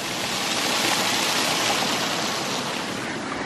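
Water rushes through a 4 inch hydro turbine as a siphon draws the air out, giving a steady, dense hiss and roar that holds even and fairly soft, with no voices.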